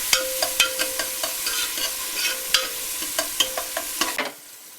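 Tomatoes fry in a pan with a steady sizzle, punctuated by a regular series of sharp scraping stirs of a spoon against the metal, close and clear with no talking, before the sizzle drops away.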